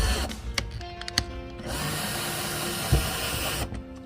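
A power drill drives a screw for a zebra window blind bracket into drywall, whirring in short bursts before a sustained close, buzzing run that stops abruptly.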